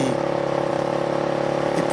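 Motorbike engine effect in a live stage show, a loud steady droning hum with a rhythmic pulsing beat, close and unbroken, ending with a brief shift in tone.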